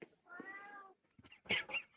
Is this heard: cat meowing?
yes